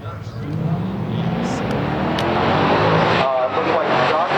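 1969 Chevrolet Camaro ZL1 and 1969 Pontiac GTO RAIV in a stock drag race, heard as a steady, loud engine roar from the racing cars that holds throughout under crowd noise.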